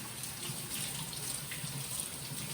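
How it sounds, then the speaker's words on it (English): Tap water runs steadily into a kitchen sink while fresh cilantro is rinsed, a constant close hiss and splash with no pauses. "And I'm going to wash the cilantro, and this is the easiest way to wash it and get all of the moisture out."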